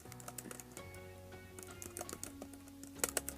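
Someone types steadily on a computer keyboard, with a quick run of close, crisp key clicks over a low electronic hum and a few louder taps near the end.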